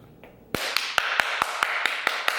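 Small, crisp hand claps in a quick, fairly even series of about nine, close and dry, starting after a brief quiet lead-in.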